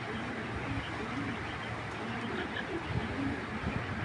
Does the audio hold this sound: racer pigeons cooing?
yes